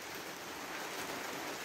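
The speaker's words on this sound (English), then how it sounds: "the rain is just not giving up" Rain falls steadily at a cabin, a soft continuous hiss of drops heard faint and even throughout, with no speech.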